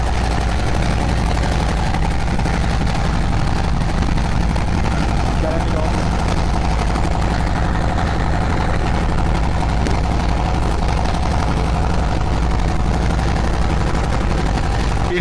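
A big boat carrying sand on the Buriganga river near Sadarghat in Dhaka runs its engine in a loud, constant low throbbing rumble, with faint voices in the background.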